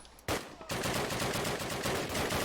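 An MG machine gun firing in the World War II video game Call of Duty, with one sharp shot and then a long, loud, continuous burst of rapid automatic fire from close by.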